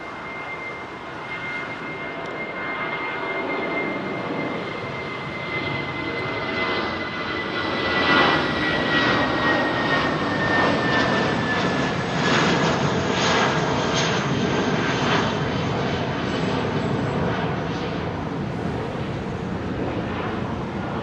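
A jet airliner on runway 27R at London Heathrow Airport gives a steady, loud engine roar with a faint rising whine that holds for the full stretch.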